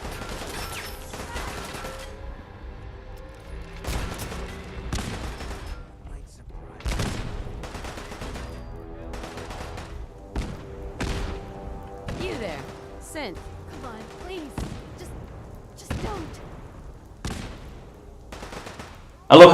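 A turret in Fallout 4 firing on the player, with repeated sharp bursts of gunfire spaced across the stretch, loud and punchy against a low game background, with a voice talking under it.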